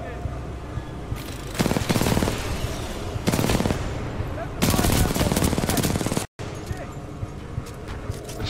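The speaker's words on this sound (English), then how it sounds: "Shooting is very, very satisfying." Automatic weapon fire in the video game Titanfall 2, loud repeated bursts of rapid shots separated by short pauses over a steady background hum of game noise, with a brief dropout near the end.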